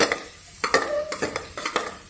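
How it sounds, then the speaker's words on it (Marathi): Coconut, coriander and garlic paste frying in oil in a pan, with short bursts of sizzling and stirring scrapes recurring in a close, busy rhythm. "ती पण चांगली परतून घ्यायची, कच्ची लागणार नाही अशी घ्यायची, तेलात चांगली परतून।"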